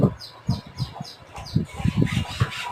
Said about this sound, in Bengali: এই খাঁচাতে যে পাখিগুলো আছে এগুলো আমার 20 দিনের পাখি